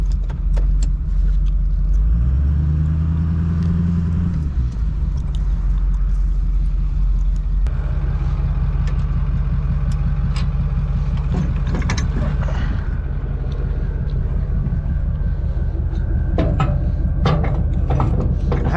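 A 6.4 Powerstroke diesel truck pulls away towing a trailer, a loud continuous low rumble with clanking mechanical knocks, a rising engine tone early on, and rattling from the hitch and trailer all the way through.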